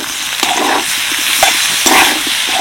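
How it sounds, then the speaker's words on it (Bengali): Two small chopped tomatoes frying in a pan, a loud, close sizzle with quick scraping strokes of a spoon stirring the pieces. "এবার দিয়ে দেবো 2টো ছোট সাইজের টমেটো কুচি"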